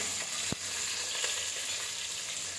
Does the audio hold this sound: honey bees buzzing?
no